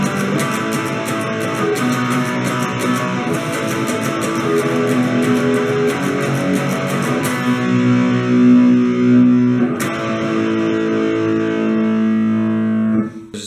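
Distorted electric guitar plays the chorus of a song, sustained chords ringing loud and continuous with no talk, then cutting off near the end.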